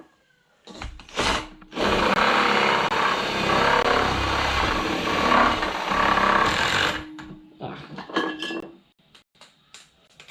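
A power drill bores a hole just large enough for a hose to fit snugly, grinding loudly and steadily for about five seconds, with short knocks and handling noises before and after.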